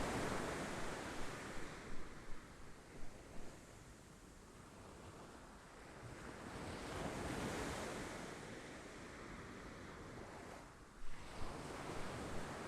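Sea waves wash and roll continuously with gusty wind buffeting the microphone, a broad steady roar with a few louder surges, no voices.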